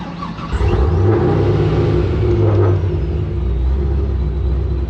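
A Pontiac GTO with an LS engine running E85 fires up on a jump box, catching quickly into a loud, deep, steady idle rumble close by.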